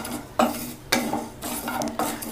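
Cumin seeds tossed and stirred in a pan on the stove, about four distinct scraping strokes at a steady rhythm, fairly close with a light sizzle between strokes.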